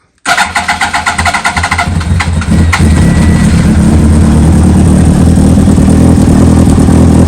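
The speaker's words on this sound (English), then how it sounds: "We'll go fire this bike up now" A 2003 Yamaha R1 sport bike cranks with a rapid starter chatter for a couple of seconds, then catches and settles into a loud, steady, close-up idle with no talking.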